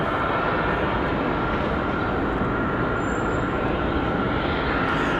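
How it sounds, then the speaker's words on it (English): Air France airliner departing from RDU airport in Raleigh-Durham at night, a steady loud broadband jet roar holding evenly throughout, no voices. "Hopefully we're looking at an on-time departure for Air France this evening."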